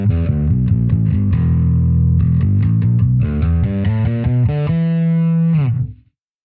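A bass guitar runs through a drive distortion effect on a Neural DSP Quad Cortex, playing a loud, gritty riff of separate notes. It ends on a sustained note that stops abruptly, and no voices are heard.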